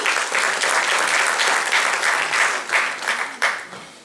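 An audience at an India-ASEAN business summit breaks into loud, sustained applause, dense clapping that swells and then tapers off near the end, with no speech over it.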